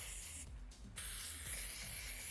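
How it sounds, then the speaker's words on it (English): A can of Redken Windblown texture spray hisses onto hair in a soft, continuous spray, briefly interrupted near the start before continuing, heard up close and fairly faint. "Aggressively spray it."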